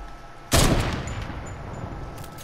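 Gunfire in the video game Fortnite: a single sharp, loud shot bursts out, then its echoing tail fades slowly beneath a faint background hum.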